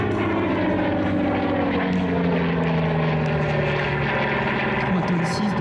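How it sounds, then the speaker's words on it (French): A Douglas Skyraider with its big 18-cylinder piston engine drones loudly through a flight demo at an air show, a continuous deep propeller roar with shifting tone, a commentator talking over it. "Ça s'entend, c'est vraiment un gros moteur"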